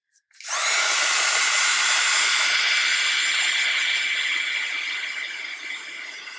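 A heat tool blows hot air over inked craft paper, switching on with a sudden loud, steady whirring hiss that holds for several seconds and fades slightly toward the end, with no talking.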